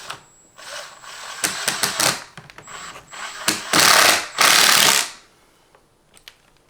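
A power drill drives screws into a vinyl window frame during installation, firing in short bursts and then two longer whirring runs close by, with quiet pauses and a faint steady whine between them.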